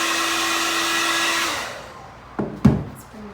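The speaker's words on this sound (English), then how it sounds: "I'm going to go back and dry it with the hair dryer." A hair dryer blows with a steady whirring hum, then shuts off and winds down, followed by a couple of soft clicks and taps.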